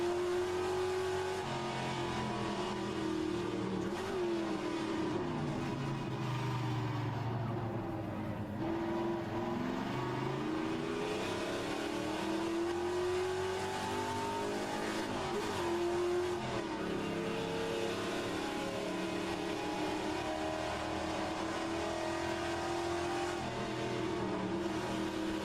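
Plymouth Cuda race car in a Trans Am racing game at Bathurst, its engine roaring steadily, rising and falling through gear changes and revs over a long continuous stretch with no talk.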